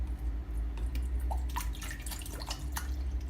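Purified water pours and trickles into a container in a small setup, with irregular drips and splashes over a low steady hum.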